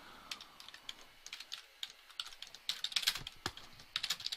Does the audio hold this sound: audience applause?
no